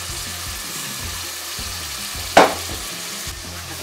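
Tomatoes frying in pilau masala in a pot, a loud continuous close sizzle with low rhythmic stirring knocks, and one sharp splashing burst partway through as liquid hits the hot oil.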